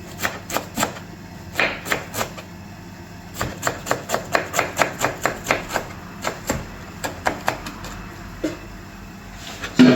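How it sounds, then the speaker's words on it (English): A knife chops onion finely into tiny pieces on a board, sounding as crisp, close, rhythmic thuds in quick bursts with short pauses, steady and moderately loud. "Onion, keep these absolutely fine. Into tiny little pieces."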